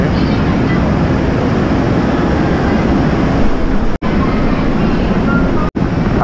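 Steady loud rumble and rolling roar inside a moving Amtrak passenger train, continuous with two brief dropouts, with no clear talk over the din.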